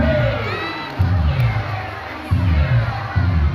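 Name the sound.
audience applause and cheering at seal show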